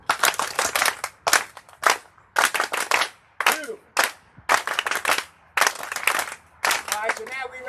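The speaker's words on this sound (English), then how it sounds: "Let's try the Class A clap to ourselves." At an outdoor Juneteenth celebration, a group performs a rhythmic Class A clap: sharp, crisp bursts of clapping in a patterned sequence, separated by brief pauses, with a voice speaking between them.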